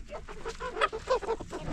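Chickens cluck and squawk in a short burst of overlapping calls, fairly close and moderately loud.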